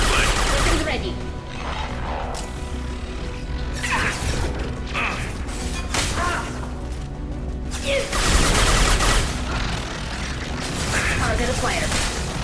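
Gunfire and combat noise from the video game Mass Effect 2 run as a dense, continuous barrage of shots and impacts, with in-game voices speaking over the action.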